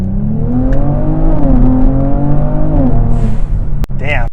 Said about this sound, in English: Damn, the blow-off valve is ridiculous